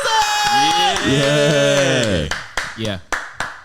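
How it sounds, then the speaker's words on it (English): A handful of sharp, separate claps ring out one after another near the end, following a stretch of speech with sustained tones; a voice speaks before the claps. "Can we get the clapping sounds?"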